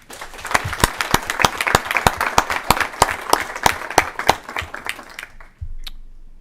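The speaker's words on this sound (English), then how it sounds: "I want Chairman West to applaud and recognize these teachers here today from Fayette County Public Schools and give them a warm welcome" Applause rises in a Senate education committee room to honor visiting Fayette County Public Schools teachers, a few dozen hands producing crisp, distinct claps that build and then stop abruptly, followed by a low thump and near silence.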